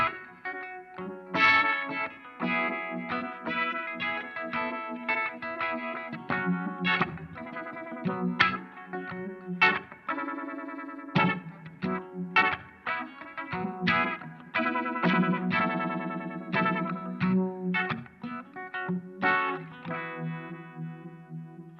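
An electric guitar plays through a Sabbadius 1969 Uni-Vibe pedal, a string of chords and single notes with a throbbing, swirling chorus-like modulation, clear and up close for about twenty seconds with no talking.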